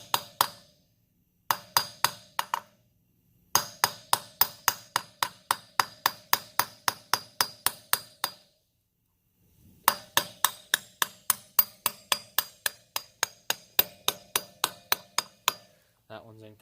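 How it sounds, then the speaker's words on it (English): Sharp metallic hammer taps on a socket seating a dirt bike wheel bearing, fired in quick rhythmic bursts of a dozen or so strikes separated by short pauses, close and loud with no voice. "Grab your hammer and the socket. Once again, tap it."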